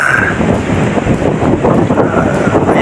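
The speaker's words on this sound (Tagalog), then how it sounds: "sobrang lakas ng hangin" Strong wind batters the microphone outdoors on a hunting outing, a loud, continuous low roar and rumble with no talk.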